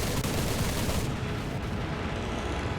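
Aircraft cannons and machine guns firing in War Thunder during a diving attack on an F8F, a dense, continuous burst of loud rapid shots that eases off slightly after the first second.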